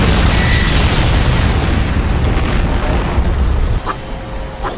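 The explosion of Deidara's C3 bomb in the Naruto anime: a massive, dense, roaring blast that fills the whole stretch before dropping slightly near the end.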